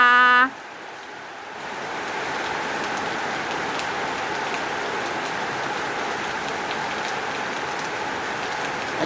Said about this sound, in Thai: ฝนตกจ้า